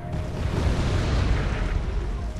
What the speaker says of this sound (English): Some artillery's firing now